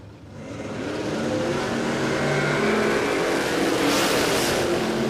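Drag race cars at a quarter-mile raceway roar off the line and accelerate hard, a loud sustained engine blare that swells and holds at full volume with no voices over it.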